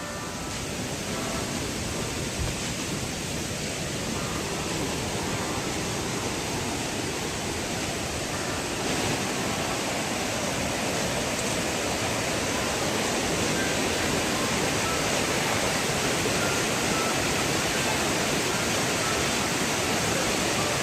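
Keralamkund waterfall roars in a dense, unbroken rush of falling water that stays loud and close throughout, with no voices over it.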